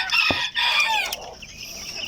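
Cornish bantam chickens in a backyard coop give a short run of clucks and higher squawking calls, close and fairly loud, with no one talking.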